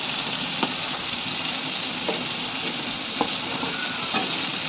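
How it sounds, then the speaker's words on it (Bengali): Fried cauliflower, cooked earlier with salt and turmeric, is stirred into sizzling masala in a pan for a katla fish curry. A continuous loud frying hiss is punctuated by regular spoon scrapes about once a second, with no voices. "এবার আমি ভাজা ফুলকপিগুলো দিয়ে দেবো"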